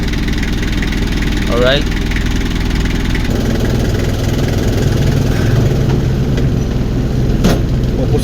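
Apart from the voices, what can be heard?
engine idling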